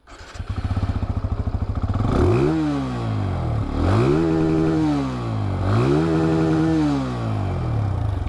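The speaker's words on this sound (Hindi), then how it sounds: "अब रियर सेक्शन पर चलने से पहले मैं आप लोगों के साथ इसकी जो ये एग्जॉस्ट साउंड है वो भी शेयर कर लूँ" A 2023 TVS Apache RTR 180 motorcycle exhaust, close up: a lumpy idle, then repeated throttle blips that rise and fall in pitch, each rev loud and deep, with no talk.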